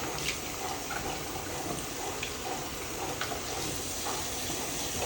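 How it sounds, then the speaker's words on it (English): A spent chemistry bottle is rinsed under running water, a steady broadband splash and trickle that continues throughout at moderate level, with faint clinks near the sink and no voices. "rinse the bottle off"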